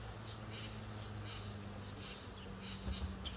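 Honeybees buzz around honey supers being cleaned after extraction, a faint continuous hum with soft pulsing swells, close by and steady throughout.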